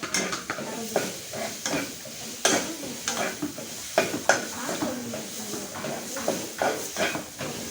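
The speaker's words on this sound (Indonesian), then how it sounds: "Kita aduk terus ya sampai bumbu gulainya itu harum ya, sampai tumisannya itu harum" Gulai spice paste sizzling in a pan while a spatula stirs it, a steady run of close scraping strokes and clacks in an uneven rhythm over constant frying hiss.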